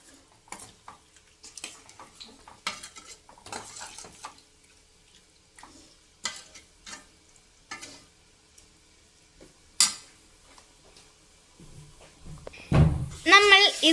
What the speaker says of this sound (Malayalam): ഇതിലേക്ക് ആവശ്യത്തിന് വെള്ളവും കൂടെ ഒഴിച്ചു കൊടുക്കാം. ഇനി നന്നായി ഇളക്കുക.